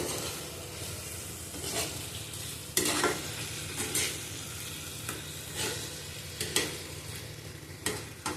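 Chopped tomato and spices fry in a pan with a constant close sizzle, broken by repeated scraping stirs of a spoon against the metal at uneven intervals.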